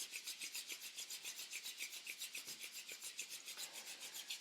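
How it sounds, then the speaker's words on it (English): Palms of two hands rubbed briskly together, a steady rhythmic rasping swish repeating about four times per second, close and fairly soft, with no talking. "asking you to rub the hands and create some friction"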